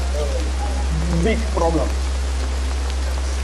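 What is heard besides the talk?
heavy rain falling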